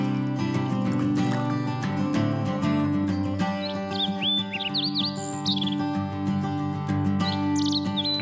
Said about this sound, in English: I love the birds singing.